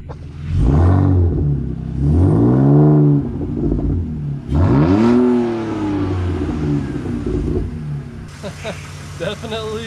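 A non-running project car, newly firing again, revs its exhaust in loud rising bursts that swell and fall several times, then settles toward a lower steady note with brief chatter at the end.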